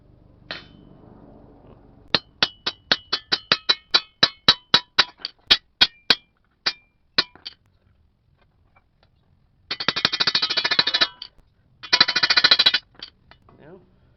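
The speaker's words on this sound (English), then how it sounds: "use a slightly bigger hammer." A slightly bigger hammer strikes metal armour plate to form a flute, first in a quick run of about twenty sharp ringing blows, then after a pause in two dense bursts of rapid hammering, close and loud.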